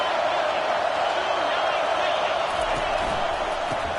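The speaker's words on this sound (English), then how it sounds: "This crowd bringing the energy and noise early" A big crowd at a football stadium gives off a steady roar of cheering and noise that stays even in level throughout, with a commentator speaking over it.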